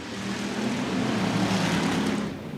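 Stock cars racing at Stuart Raceway just after the green flag, a steady wash of engine roar from the pack held at an even, loud level throughout with no voices.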